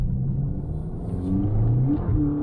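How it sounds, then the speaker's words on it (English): BMW 335 accelerating hard with wheel spin, a loud close engine roar and rumble with rising revving tones throughout, no talk. "Yo, we got wheel spins?"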